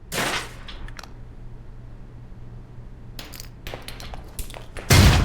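Grenade blasts in the video game Alpha Protocol: a sharp explosion at the start, then a scatter of clicks and thuds, and another heavy boom near the end.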